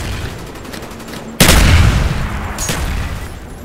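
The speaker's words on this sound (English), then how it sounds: "Throwing grenade!" A grenade goes off in Call of Duty: Black Ops amid the gunfire of a multiplayer match, a sharp loud blast after a stretch of scattered shots, followed by a second, smaller report.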